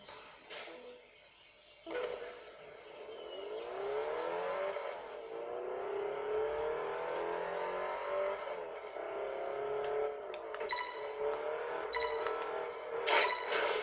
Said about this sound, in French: Donc là la voiture qu'on a c'est la Lancia Delta.